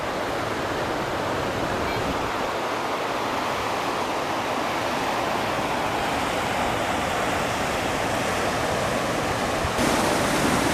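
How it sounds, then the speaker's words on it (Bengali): Water rushes steadily over the Jaldhaka barrage in the Dooars, a loud, dense, unbroken roar of spilling water that fills the whole stretch close by and holds level from start to finish. "এই জল ঢাকা ব্যারেজ।"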